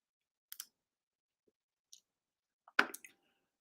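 Sharp clicks from a computer mouse, a quick double click near the start, a faint single click, then a louder cluster of clicking near the end, all close and alone in a quiet room.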